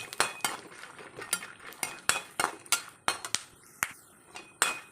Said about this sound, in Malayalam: ഇതിങ്ങനെ പൊട്ടുന്ന ശബ്ദം കേൾക്കാൻ പറ്റും